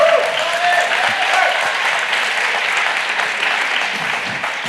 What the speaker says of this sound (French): c'est gentil de m'applaudir